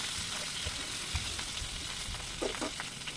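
Pieces of barbecue chicken, fried about eight to ten minutes, crackle and sizzle steadily in hot oil, with a few brief scraping knocks near the end as they are lifted from the pan.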